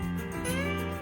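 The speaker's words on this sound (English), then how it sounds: "Pig, Nicky's ginger cat," A ginger cat gives one drawn-out, wavering meow, loud and close, with a sliding tonal pitch through its length.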